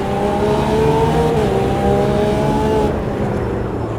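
Lamborghini Revuelto hypercar engine in the Automobilista 2 racing game, a loud continuous high-revving drone with shifting pitch that eases slightly near the end, with no voices.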